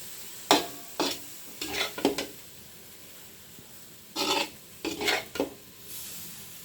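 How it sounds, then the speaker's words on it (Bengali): Cooked shanti greens with prawns are scooped from a pan onto a plate in a quiet kitchen, with about a dozen short, clattering scrapes of a spoon against the pan in irregular bursts. "এখন আমি শাকটা উঠিয়ে ফেলছি। এই পেলাটায় আমি সার্ভ করতেছি।"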